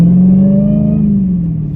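Supercharged engine of a 2017 Dodge Challenger Hellcat revving, loud and close, with a steady low roar under a rising supercharger whine that sags slightly as the revs ease off, with no talk.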